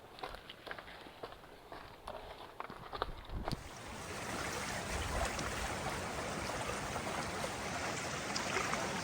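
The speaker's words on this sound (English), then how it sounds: "So this is Mangapakeha Creek." On the Te Araroa Trail, crunching footsteps give way to the steady, broad rush of Mangapakeha Creek flowing nearby, loud and continuous once reached.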